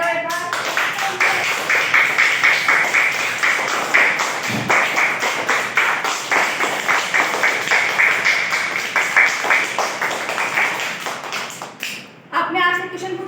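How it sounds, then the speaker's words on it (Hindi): A class of children claps together in a long run of quick, loud, uneven claps that fills the room and then tapers off, with children's voices rising at the very end. "ताली बजाओ एक बार।"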